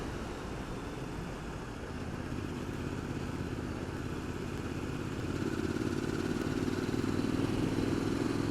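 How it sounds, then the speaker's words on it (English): Triumph Street Scrambler, a Euro 4 model, riding along with a steady motorcycle engine and exhaust drone that builds slightly louder toward the end, with no talking. "The last of the Euro 4 models has a lovely exhaust sound"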